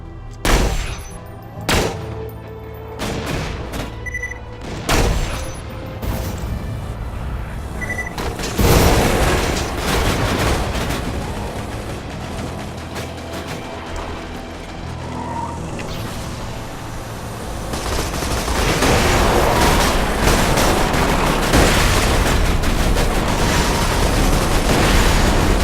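Rifle gunfire in Borderlands 2: a string of sharp, separate shots early on, then a heavy boom followed by sustained rapid firing and roaring explosions, loud and close.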